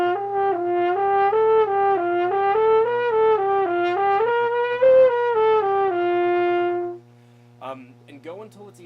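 A horn plays a harmonic-series air-flow exercise, slurring smoothly up and down through the partials in one continuous breath, loud and sustained with a steady low drone beneath, then stopping before a few faint soft sounds.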